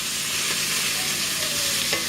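Sausages fry in a pot for gumbo with a dense, continuous sizzle and crackle, close and loud, with faint stirring scrapes underneath.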